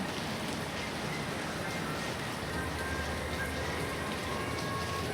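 Steady rain falls outside a covered walkway at a hotel in Clark, making a dense, even hiss of drops on surfaces that continues without a break throughout.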